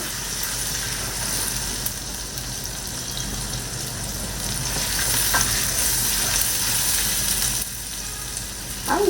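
Onion sizzling in hot oil with a ginger, garlic and cumin paste, with a steady close crackle and occasional stirring scrapes for the whole stretch and no talk.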